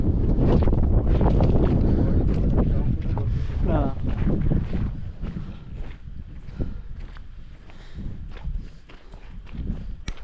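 Strong gusts on the hilltop at Korigad Fort near Lonavala buffet the microphone in loud, uneven roaring bursts that ease somewhat later, with footsteps and brief voices underneath.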